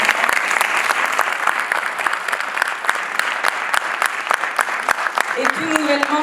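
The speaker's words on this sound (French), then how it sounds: "S'il vous plaît, des applaudissements." Steady audience applause at a conference fills the room, a dense even clapping that continues throughout, with a voice briefly heard near the end.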